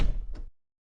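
A heavy door thuds shut in a Telugu horror story, a single dull, booming impact that quickly dies into silence.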